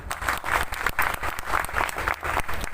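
A crowd at a free medical camp function claps loudly and steadily nearby, the applause pulsing in a loose rhythm, with no talk over it.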